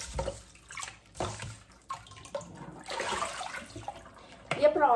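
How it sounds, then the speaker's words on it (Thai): Sago pearls rinsed and swished by hand in warm water in a bowl, making close sloshing and splashing water sounds while someone talks over them. "ใช้น้ำอุ่นนะ ซาวแบบนี้นะคะ เหมือนล้างตัวเมล็ดสาคูไปด้วยในตัว"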